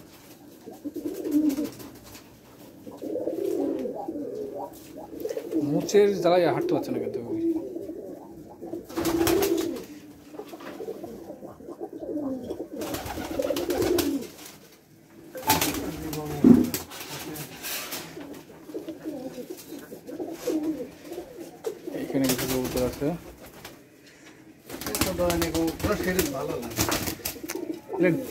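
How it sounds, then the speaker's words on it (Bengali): A Rajshahi Giribaj pigeon in heat cooing in repeated low, throaty bursts close by, with someone talking in between and over the calls. "মানে খুব হিটে আছে কবুতরটা"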